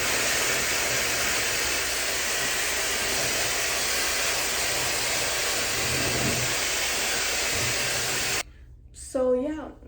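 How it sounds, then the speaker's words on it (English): A MAYBEL Pro ionic hair dryer blows with a steady, loud whoosh for several seconds, then cuts off abruptly and a person starts talking. "it definitely dries a lot quicker than your typical hair dryer"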